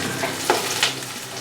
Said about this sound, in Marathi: तेलात जो कांदा टाकला त्याचा आवाज येतो ना